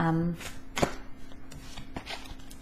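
Tarot cards being shuffled give a few crisp riffling snaps and soft slaps, close and brief, with a voice briefly heard at the start.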